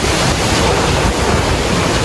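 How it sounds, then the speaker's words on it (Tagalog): Strong Super Typhoon Uwan winds in Nueva Ecija, Philippines, roar and buffet the microphone in a constant, loud rush of noise with no letup. "Grabe, ang lakas ng hangin."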